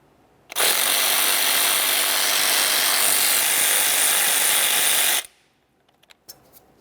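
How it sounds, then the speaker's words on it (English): A power tool whirs at full speed for about five seconds, removing 8mm-headed bolts from the AC compressor mounting bracket on a 2001-2005 Ford Explorer Sport Trac, then stops abruptly, followed by a few light metallic clicks. "we'll remove the mounting bracket for that by removing these two 8mm headed bolts"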